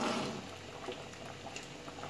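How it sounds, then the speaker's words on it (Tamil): Radish sambar bubbling in a pot on the stove, a soft continuous simmering hiss with faint popping bubbles, heard close and alone without voices. "நல்லா கொதிச்சிட்ருக்கு நம்ம இதை ஓப்பன் பண்ணி பார்க்கலாம்"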